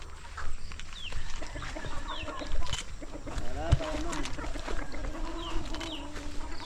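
Chickens clucking around a rural site, repeated short clucks and squawks from several birds at close to middle distance, over a low background hum with scattered noises.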